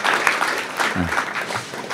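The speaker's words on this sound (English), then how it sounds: "I suggest we applaud you even before asking our questions" A conference audience at a hybrid warfare panel gives short, uneven applause after presentations, fairly close clapping with a voice briefly audible in the middle.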